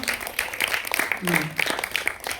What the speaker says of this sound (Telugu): అందరికి ఒకసారి క్లాప్స్ కొట్టున్నామా